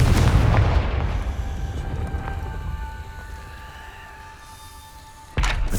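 Confringo blasting spells explode in the video game Hogwarts Legacy. A heavy boom opens and decays into a long rumbling tail, then a second sharp blast hits near the end.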